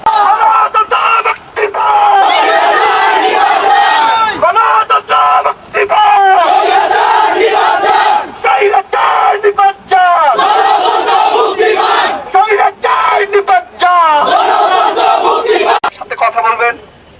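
A loud protest crowd of artists gathered at Farmgate chants slogans in unison, rhythmic bursts of many voices rising and breaking off in repeated waves, close and filling the space.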